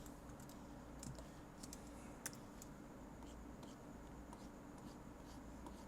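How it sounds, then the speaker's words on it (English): Digital pencil stylus drawing on a 24-inch XP Pen tablet monitor, giving soft, steady scratchy strokes with a few faint taps and clicks, quiet and close with no talk. "I'm using my digital pencil"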